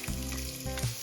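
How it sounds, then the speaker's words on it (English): Chopped onions sauté in a hot pan, a dense continuous sizzle with small bursts as they are stirred, close and steady. "Sauté chopped onions."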